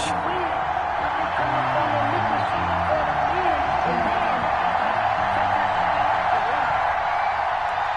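Stadium crowd noise from an EA Sports NFL video game, New Orleans Saints against Cleveland Browns, a steady dense roar throughout with a commentator talking over it.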